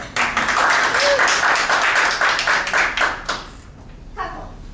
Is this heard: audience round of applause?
yes